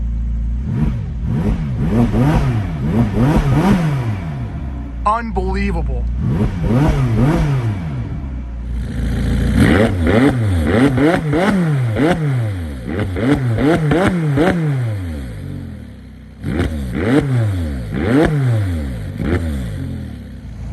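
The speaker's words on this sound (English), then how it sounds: "let's go ahead and give this car a couple revs" A 2019 McLaren 570S supercar engine revved repeatedly while parked, loud rising and falling blips in quick succession with a brief pause between bursts, and one short spoken exclamation.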